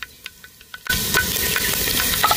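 Mustard seeds and curry leaves hit hot oil, where garlic is already frying, and burst into loud, sudden sizzling after a few soft spatters, then keep crackling and popping close by.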